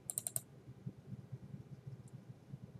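Typing on a computer keyboard, starting with a quick burst of four crisp, loud keystrokes, then a few scattered faint taps over a low background hum.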